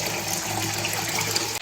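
Water pours from a bucket for filtering, a steady close gushing and splashing that continues without talk and stops sharply at the end.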